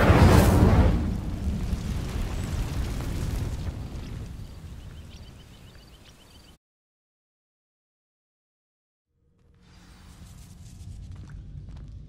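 A fire spell ignites dry vines in Hogwarts Legacy, bursting into a loud, roaring whoosh that fades over several seconds, then cuts to silence before soft ambient game sounds return.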